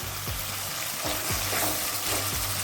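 Ground paste of ginger, garlic, onion, cumin and dried red chilli, loosened with a little water, hits a hot pan for crab curry, giving a loud, steady sizzle with repeated stirring scrapes and no talking.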